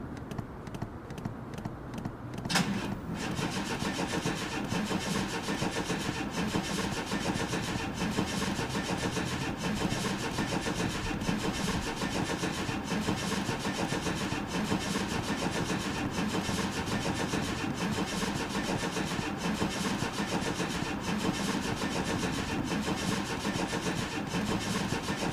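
A Chevy Astro Van engine turns over after some cranking, then runs at a steady idle throughout, close and continuous with no talk.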